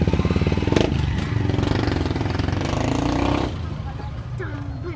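Motorcycles rumble and rev along a busy street, engines loud and close for the first few seconds, then dropping back as they move on, with voices talking over the traffic.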